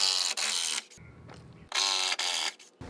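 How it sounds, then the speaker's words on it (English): Power screwdriver backing screws out of a wooden fence in two loud whirring bursts, with a brief low grinding pause between them, close and alone. "I need to make sure to remove the screws I have on this side."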